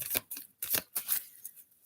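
Tarot cards being shuffled by hand in a few quick riffling bursts, close and fairly quiet, with short pauses between them and no talk.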